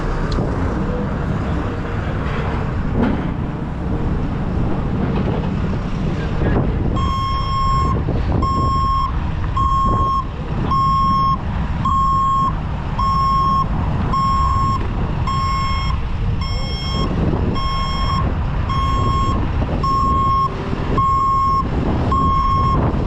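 A rotator tow truck backs up, its reversing alarm sounding a steady, evenly spaced run of loud beeps for most of the stretch, starting a few seconds in, over rumbling engine and road noise.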